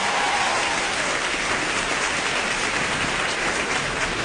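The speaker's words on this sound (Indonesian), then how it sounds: "boleh dengar tepuk tangannya nggak?" Live audience at a stand-up comedy show applauding loudly and steadily throughout, a dense wash of clapping with no voices over it.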